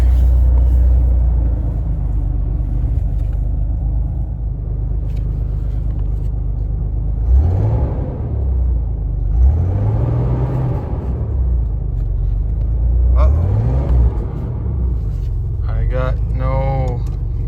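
A 1987 Ford Bronco II, running again after 15 years, gives a loud steady low engine rumble while driving, with a few rising and falling revs and a person talking over it.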